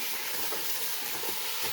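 Beef keema browning in a pan, a steady broadband sizzle with soft stirring scrapes running throughout, close and even in level, with no voices.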